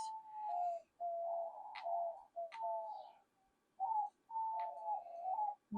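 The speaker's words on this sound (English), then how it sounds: "Birds are happy this morning." Outdoor morning birdsong, led by a dove's repeated soft cooing phrases with short pauses between them, clear and fairly near with no talking.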